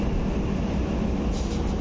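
A DEMU passenger train, the 07483 Secunderabad–Siddipet service on the Manoharabad–Siddipet line, rumbles along in a steady, loud, continuous roar heard from on board, with no talking.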